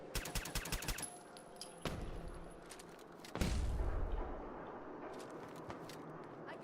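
Gunfire in Fallout 4: a rapid burst of automatic shots opens, then two heavy isolated blasts with lingering rumble, under a quiet game background.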